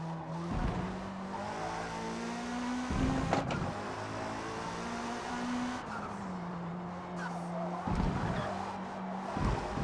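Engine of a 2021 Hyundai Elantra touring car in Forza Motorsport at Brands Hatch, a steady droning race engine rising and falling through gear shifts and corners, loud and close, with occasional bursts of tire noise.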